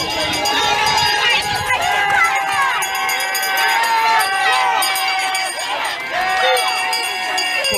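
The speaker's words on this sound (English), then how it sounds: "Police are here and are making attempts to contain a crowd that has gathered here at Luziknan." A large crowd gathers outdoors while police try to contain it, producing a loud, dense roar of many overlapping voices, shouts and movement that runs without a break throughout.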